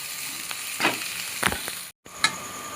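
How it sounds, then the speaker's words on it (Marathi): Ground spice paste stirred and frying in a pan for a spicy Maharashtrian drumstick curry, with several soft sizzling bursts and scraping strokes, a brief gap, then a final sizzle. "वाटण होतं ना ते ह्याच्यात घालून घ्यायचं आणि ते मग फिरवूया, फिरवून चांगलं एकजीव करून घेऊया"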